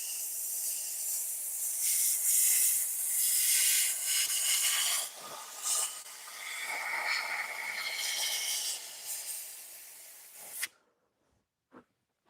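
A steady, close hiss of lacquer finish being sprayed continues for about ten seconds with slight surges, then cuts off, followed by a couple of faint taps.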